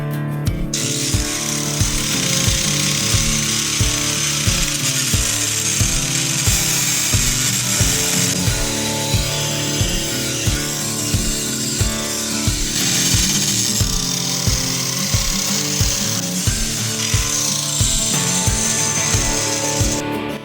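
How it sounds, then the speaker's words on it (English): Power tool grinding against metal parts of a vehicle cooling system, a loud continuous whirring grind with rhythmic pulsing and rough scraping, close up and steady throughout with no talking. "we may have to do a little more grinding to get that little piece out of the way"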